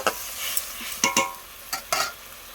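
Masala paste with chilli powder being cooked down for a bhola fish curry, a spoon stirring through it in a pan with several scraping strokes over a soft continuous sizzle, close and moderately loud.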